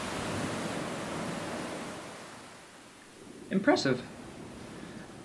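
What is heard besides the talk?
AI-generated beach soundscape of waves, Hana, Maui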